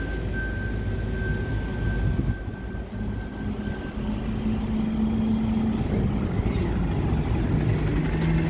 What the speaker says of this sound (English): Bloody service delivery lorry.